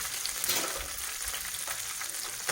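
Garlic cloves frying in hot oil in a pan while cooking rohu fish, a dense close crackling sizzle with occasional stirring, no voices.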